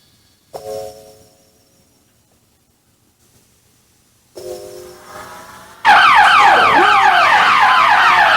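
Wailing siren used as a haunted house effect, loud and close, cutting in abruptly after two shorter tonal bursts and then sweeping steadily through to the end.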